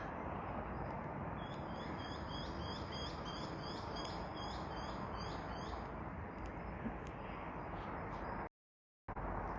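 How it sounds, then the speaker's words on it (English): Faint, rapid bird chirps repeat in quick trills above a steady, loud broadband rushing background, briefly cutting out near the end. "And you can hear the birds chirping."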